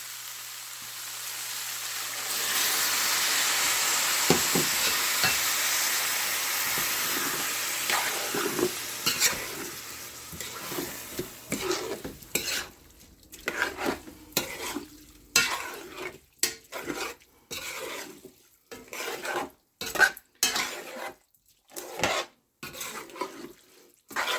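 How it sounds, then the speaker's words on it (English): Broth pours into a pot of chicken, rice, lentils and black beans with a rushing hiss that fades, then a spoon scrapes and stirs in irregular clinks and knocks against the pot, close and quiet. "at this point, you're going to add your broth."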